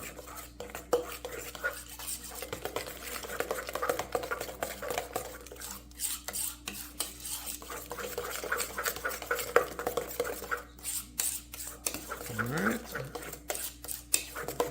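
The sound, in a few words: mixing butter into banana bread batter by hand with a spoon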